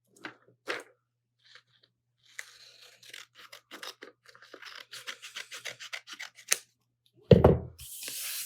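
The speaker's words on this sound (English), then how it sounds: "I'm going to use my pair of scissors to trim off this extra bit here at the end" A pair of scissors trimming excess paper from an origami fold, sounding as a few close snips followed by a run of quick crisp rustles and cuts. It ends in a louder crinkle of paper being handled.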